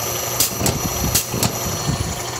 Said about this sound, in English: the compressor runs with the air pressure, forcing the intake valves open